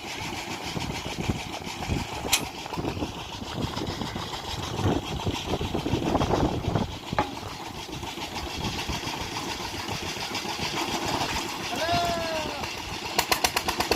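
A tractor engine runs steadily at a borehole drilling site in Pakistan, a continuous mid-pitched rumble that holds throughout with voices talking over it.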